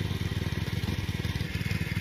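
A tractor engine runs steadily at close range with a fast, even low-pitched throb, the clutch held down while sowing fields in Konkan, with no talk over it.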